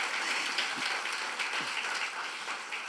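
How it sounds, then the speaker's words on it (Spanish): A church congregation claps for the Lord, giving a soft, steady patter of many hands heard from some distance, with a few faint voices mixed in. "Denle un aplauso al Señor"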